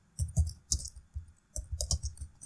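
A short burst of quiet, close keystrokes as someone types a search query on a computer keyboard, with uneven clicks arriving in small clusters.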